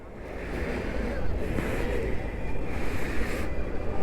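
Sea waves with a strong current roll onto Digha beach, a steady broadband wash with surging swells and some wind buffeting the microphone.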